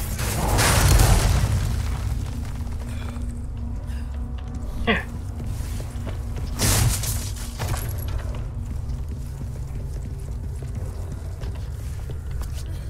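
A frag grenade going off in Resident Evil 4 Remake: a loud, deep explosive boom with a lingering rumble, then a second heavy burst several seconds later, amid clanking game sounds.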